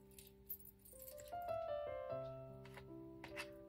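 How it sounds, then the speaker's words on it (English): A small bunch of metal keys on a key ring jangles and clinks close by, with bright rattling bursts and a few clear ringing tones as the keys shift and knock together, no talking. "Or how about a key? I just got these keys not that long ago."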